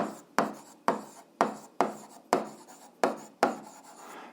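A pen writes out an algebra solution on paper in short, distinct strokes. Seven or eight quick scratches repeat about every half second, close and quiet, with silence in between and no talking.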